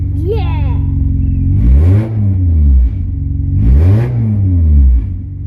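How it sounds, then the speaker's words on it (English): A lifted off-road Honda CR-V idles loudly, then its engine is revved twice in long sweeping blips, the exhaust note rising and falling close to the microphone, with brief voices faintly audible. "Let's do an exhaust note."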